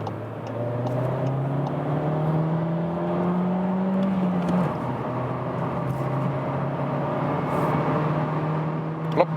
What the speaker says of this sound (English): now we go to 50 kilometers again, but start in the second gear and see how that goes